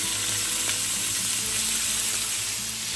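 Shrimp fry in chili oil in a pan with a continuous, close sizzle that stays steady and loud from start to finish, with no one speaking.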